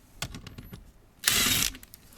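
Ratchet working a 7mm screw at the bottom of a kick panel inside a Ram 1500 cab, a few faint clicks followed by a short, louder burst of rapid ratcheting lasting under half a second, close and quiet.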